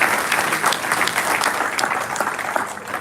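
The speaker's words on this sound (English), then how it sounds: "That's worth a round of applause," Steady applause rises from a school audience celebrating a record enrollment of 885 students, a dense even wash of clapping that lasts about three seconds with no talking over it.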